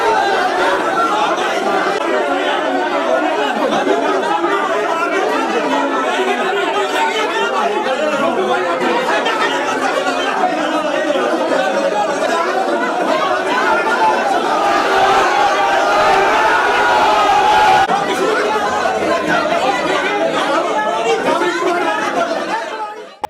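An agitated crowd gathers outside a temple complex in Una, Himachal, after a killing there. Loud, dense chatter from many voices continues without a break for over twenty seconds, with no single voice standing out.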